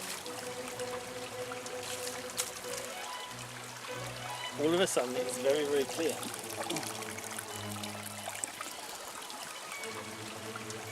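Water tossed from a plastic cup splashes onto the stone base of an old Roman aqueduct outdoors, a short burst of pouring and trickling under steady background noise, with people talking before and after.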